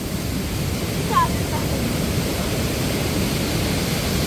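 Strongly flowing water at a waterfall along the Idukki–Kattappana route, a dense, unbroken roar heard from close by, with a brief voice near the start.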